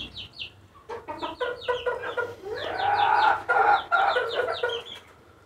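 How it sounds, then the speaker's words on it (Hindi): Desi chickens and roosters on a small farm cluck in repeated short bursts, with several birds calling over one another at close range. The clucking builds into a busier, louder flurry midway and continues throughout, with no talking. "देसी मुर्गा पालन किया हूँ मैं।"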